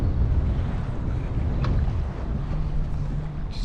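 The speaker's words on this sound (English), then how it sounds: "I'm like barely paddling and the wind's pushing me from my back." Strong wind buffeting the microphone while paddling on the Colorado River in Arizona, a steady loud rushing roar with faint water wash and a brief higher scrape near the end.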